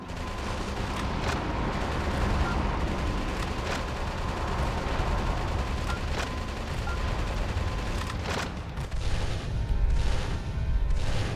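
Dense, continuous gunfire and explosions from mech combat in the video game Metal Wolf Chaos form a loud, steady barrage with sharp bursts standing out, and no talking over it.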